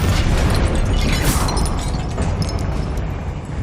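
Fire and blasting spells in Hogwarts Legacy erupt into a loud, booming explosion that crackles and rumbles before slowly fading, with no voices over it.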